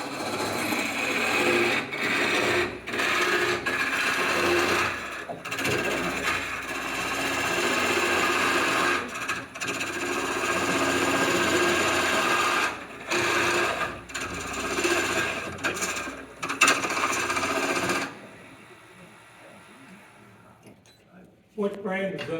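A carbide cutter hollows a wooden vase on a lathe, producing a close, rough scraping and chattering in repeated passes with brief pauses, then the cutting stops near the end while people talk throughout.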